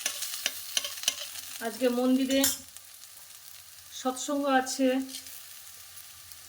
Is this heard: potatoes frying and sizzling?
yes